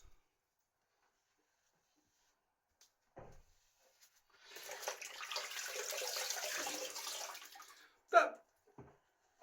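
Water from a tap splashing as a face is rinsed off after a shave, a soft running splash of about three seconds, close but quiet, followed by a brief knock and light handling noises.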